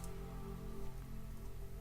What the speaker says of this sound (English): Set the weather to rain and thunder.